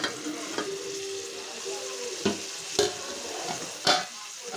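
Ivy gourd and tomato curry cooking in a pan, a soft sizzle broken by three or four distinct scrapes of a spoon stirring the softened pieces.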